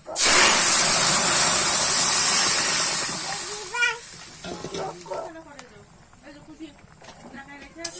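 Curry vegetables hit a hot pan with a loud, hissing sizzle that fades over a few seconds, followed by a person talking over a quiet background.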